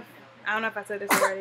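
An infant gives a single short, sharp sneeze near the end, close and clear, after someone speaks over quiet room tone.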